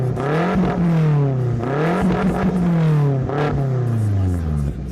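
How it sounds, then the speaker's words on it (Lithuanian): A 2016 BMW X5M with a 423 kW V8 and Akrapovič exhaust revs loudly up close, rising and falling in about three deep, throaty blips. "Visiems ir yra įdomu, kaip dirba šis variklis, tai mes jį ir išgirsim."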